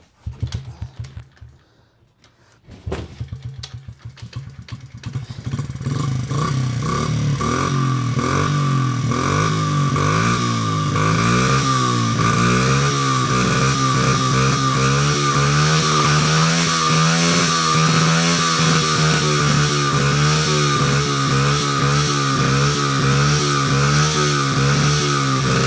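Honda CRF 50 dirt bike engine pulled and started by hand: a few cranking bursts, then a loud, close, steady buzzing idle with wavering revs that runs for over twenty seconds.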